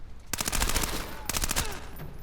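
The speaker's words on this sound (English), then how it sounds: "I only seem to shoot him in the legs" Rapid gunfire in Splinter Cell Blacklist, two close, loud bursts of sharp repeated shots separated by a brief pause, over steady game ambience.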